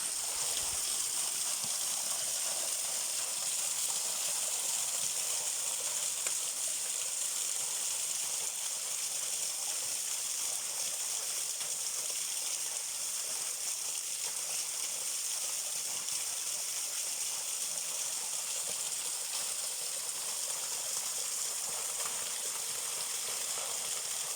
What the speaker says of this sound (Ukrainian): А тепер подивіться на це чудо природи. Правильно, водоспад.